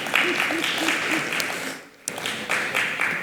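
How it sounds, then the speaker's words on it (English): Clapping from a crowd at an asset management conference in Richards Bay, a spread of hand claps that dips briefly to near quiet midway and then resumes, with some voices mixed in. "I thought you were going to clap hands."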